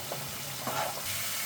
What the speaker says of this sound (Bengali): অল্প পরিমাণে আমি 1/2 চামচ আদা রসুন বাটা দিয়ে দিলাম।